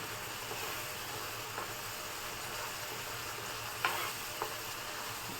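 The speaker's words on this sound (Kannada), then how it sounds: "ಈ ಹಂತದಲ್ಲಿ ನಾವು ಕೊತ್ತಂಬರಿ ಸೊಪ್ಪನ್ನ ಆ್ಯಡ್ ಮಾಡ್ಕೊತಾ ಇದ್ದೀವಿ ಚೆನ್ನಾಗಿ ಫ್ರೈ ಮಾಡ್ಕೊಳ್ಳಿ" Coriander leaves for tamarind puliogre gojju fry in a pan as a quiet, even hiss, with a couple of soft stirring clicks late on and no talking.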